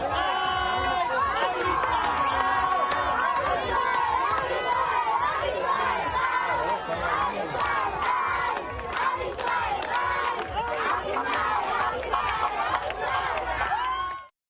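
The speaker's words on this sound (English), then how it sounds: "The Israelis celebrated their return with crowds turning out onto the streets late at night to sing Am Yisrael Chai as they welcomed the hostages home." A large street crowd in Israel late at night sings Am Yisrael Chai to welcome returning hostages, a loud continuous wall of massed voices with shouts and cheers throughout.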